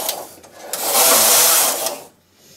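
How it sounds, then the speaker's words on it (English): A Singer knitting machine carriage with a lace carriage slides across the needle bed, a loud close rushing, whirring sweep that swells and fades as it passes, with a brief click before and after. "Thread the yarn in the carriage, knit two rows."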